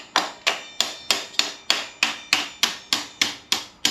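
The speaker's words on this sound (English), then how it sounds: "Using your vice grip hammer sometimes works." Vice grip pliers used as a hammer strike a part on a 2023 Beta 390 RE motorcycle, making about thirteen sharp metallic taps at a steady, even rhythm, close and clear with no talk.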